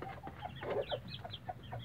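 Chickens clucking nearby in a rapid, overlapping series of short calls, fairly loud and close with a low background rumble.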